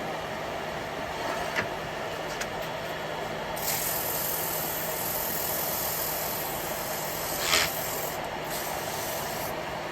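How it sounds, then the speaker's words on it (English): Sandpaper rubs against a wooden piece spinning on a woodturning lathe, a continuous gritty hiss over the motor's steady hum, with a few brief sharper scrapes and surges along the way. "A little bit of sanding on it."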